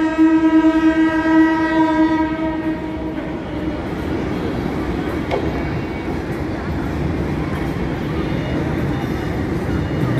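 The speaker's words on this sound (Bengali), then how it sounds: "দেখতে পাচ্ছেন ট্রেনটা কত বড়, হর্ন দিচ্ছে" A large train passes in the afternoon, its long, loud horn blast sounding for about three seconds before giving way to a steady, heavy rumble of wagons rolling by.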